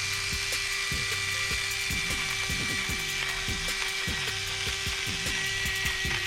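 A KSL electric spice grinder runs steadily, its motor whining under repeated crunching and clicking as salt and pepper are ground on a coarse setting, continuous and close.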